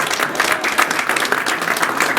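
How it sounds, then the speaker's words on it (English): An audience at a jazz production claps steadily in a dense, sustained wave of applause that fills the room without letting up. "Round of applause for Carmen."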